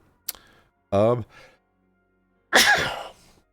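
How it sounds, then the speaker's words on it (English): A short burst is followed by a voiced sneeze-like sound, a pause, and then a second louder sneeze with a breathy tail. "I have been sneezing all day."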